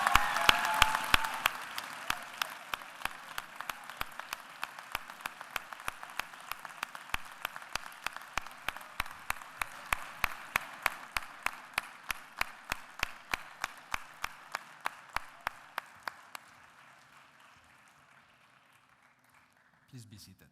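Graduates at a graduation ceremony applaud their families, sponsors and friends with a sustained wave of crowd clapping that holds steady, thins into scattered individual claps and fades out near the end.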